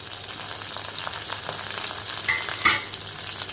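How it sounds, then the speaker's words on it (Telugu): Cumin and mustard seeds fry in oil, a close, steady sizzle with scattered crackles and a brief louder pop or clink near the end, no talking. "జీలకర్ర ఆవాలు వేసామండి"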